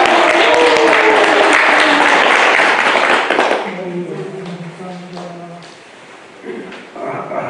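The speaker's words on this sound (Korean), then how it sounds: "큰 박수로 모시겠습니다." An audience claps loudly and steadily in a hall to welcome a speaker at a Won Buddhist temple gathering, the applause fading after about three and a half seconds into quieter murmuring and a voice.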